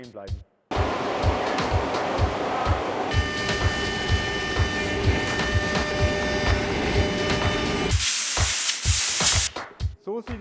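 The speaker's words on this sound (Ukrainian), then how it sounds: "Потім випилюємо прямокутний зріз, намагаючись залишити 3 мм МДФ." A CNC router mills a rectangular pocket into an MDF furniture panel board, with a steady whine and grinding cut over rhythmic thumps, stopping and restarting, loud and close.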